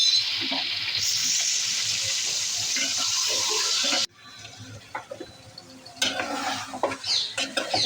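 Marinated duck meat goes into a pan of browned onions, setting off a loud steady sizzle that drops off suddenly, followed by scraping stirring noises and renewed frying.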